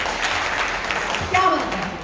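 An audience at a leadership training session claps in a brief burst of applause, mixed with voices talking over it.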